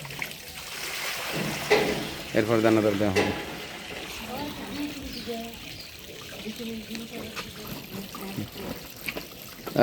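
Water trickling and splashing as it is poured for cattle to drink on a farm, a soft continuous pour under close talking.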